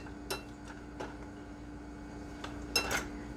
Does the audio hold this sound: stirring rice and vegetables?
yes